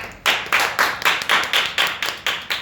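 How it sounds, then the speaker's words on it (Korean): Audience clapping to welcome a speaker to a lecture: about ten sharp, evenly spaced claps in a steady rhythm, close and fairly loud, with no talking. "정유진 리더님을 큰 박수로 모시겠습니다"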